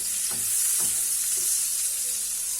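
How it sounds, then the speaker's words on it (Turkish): A spoonful of butter melts in a frying pan over low heat, giving a steady, even sizzle with a few soft scrapes, close and alone. "Aynı tavanın içerisine bir yemek kaşığı tereyağı ekledim. Erimesini bekliyorum."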